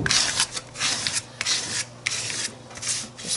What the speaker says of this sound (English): I'm just flattening this down with a credit card or whatever this was, room key or who knows.